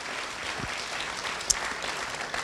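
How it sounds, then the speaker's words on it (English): Applause for fourth graders at a back-to-school prayer service, a steady diffuse patter of many hands from a fairly distant crowd, with one brief sharp knock partway through. "Let's give them a round of applause."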